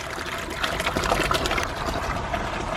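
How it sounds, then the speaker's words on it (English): Water overflows from the upper tank of a garden aquaponics system, a steady trickling and splashing that stays moderately loud and continuous, with no talking. "It's overflowing from the tank"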